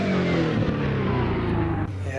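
BMW 325 engine in the driving game Assetto Corsa, a loud, close, sustained rev with rising tonal harmonics that fades out near the end.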